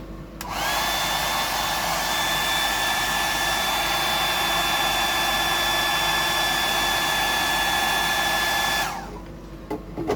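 A hair dryer blows steadily to dry freshly applied paint, a loud continuous whir with a high whine that runs for about eight seconds, then cuts off abruptly.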